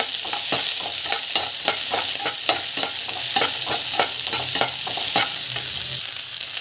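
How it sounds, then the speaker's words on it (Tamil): Mustard seeds, cumin, chana dal, onion and green chilli sauté in a pan under a loud, continuous sizzle. Quick, regular spatula scrapes stir the mix throughout. "இந்த ஸ்டேஜில் கடுகு, சீரகம், ஸோ கடலைப்பருப்பு, வெங்காயம், பச்சை மிளகாய், ஸோ நல்லா வந்து வதக்கிட்டுருக்கோங்க"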